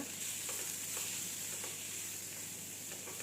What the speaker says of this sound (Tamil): இதில் மேஷ் பண்ணி வச்சுருக்க ப்ராக்கலி சேர்த்துக்கிறேங்க. சேர்த்துட்டு நல்லா வதக்கிக்கோங்க.